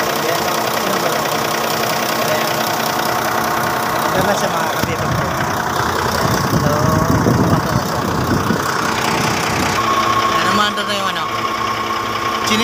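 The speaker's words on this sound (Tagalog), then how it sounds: "Ito ang main pump." A heavy machine's engine runs with its hydraulic main pump, which drives the boom, extension and swing, while being tested after a torque converter and automatic transmission overhaul; a loud, continuous close-up drone with knocking.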